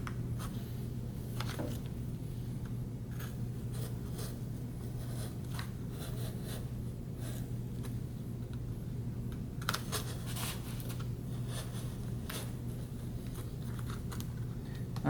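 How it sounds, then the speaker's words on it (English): A knife blade cuts through a stack of nine cardboard sheets in repeated short scraping strokes, crisp rasps and crunches in irregular bursts over a low steady hum. "I'm cutting through 9 sheets of cardboard."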